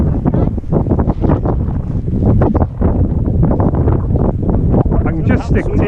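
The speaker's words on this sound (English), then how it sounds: "It's not about you flying because it's very windy today." Strong wind on a beach buffets the microphone in loud, rumbling, irregular gusts throughout, while people talk over it.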